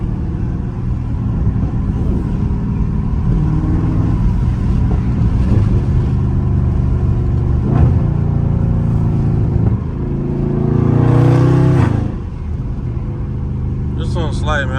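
A Dodge Challenger or Charger Scat Pack drives in busy traffic, its engine giving a steady low rumble that swells briefly as it revs up, while someone talks over it.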